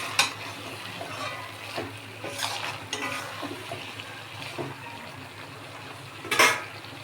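A spoon stirs jackfruit and shrimp curry with garam masala in a pan, giving quiet sizzling and several sharp scrapes and clinks against the metal, close by with no voices.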